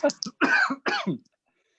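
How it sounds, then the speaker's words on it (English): A few harsh, close coughs in quick succession, throaty and loud, followed by a brief silence. "Excuse me, I got a cough now."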